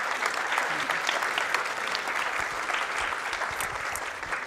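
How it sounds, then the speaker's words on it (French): Audience applause at a French conference on social media trends, a steady continuous wash of clapping from a room full of people, moderately distant and fairly quiet, with no talking over it. "On peut applaudir."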